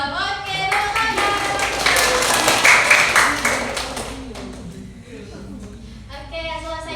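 Students in an elementary civics practice lesson clap for a classmate in a rhythmic "good job" cheer, a run of quick claps that builds and then thins out, with voices chanting and talking over it.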